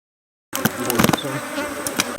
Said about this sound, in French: Le chant des abeilles,